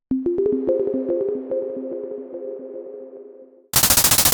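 Rhythmic percussive hits processed with delay and reverb, repeating echoes trailing into a sustained tonal tail, then an abrupt switch to a dense burst of rapid, noisy repeated hits.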